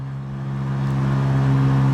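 A Kuba Blueberry 50 electric scooter climbs a steep hill, its motor giving a loud, steady low whine and hum that swells slightly as the load builds.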